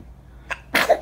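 A single close sneeze, a brief inhaled catch followed by a sharp burst, then quiet.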